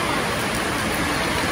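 Heavy rain pours steadily at a Sai Baba temple, a dense, continuous hiss of downpour filling the scene with no voices over it.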